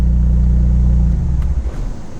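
A Hyundai Veloster N engine revving hard, a loud close low rumble that holds strong and then drops away as the car pulls off, leaving lighter road noise.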